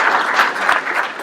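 A round of applause for a University of Tennessee football gathering, dense steady clapping from a group close by, with no talk over it.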